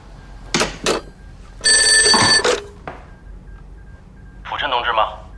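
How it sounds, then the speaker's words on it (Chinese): A telephone in a spy-drama scene gives a few short clicks and then one loud, sustained ring lasting nearly a second. A brief voice follows, with quiet room tone in the gaps. "我先接着电话，听他怎么说"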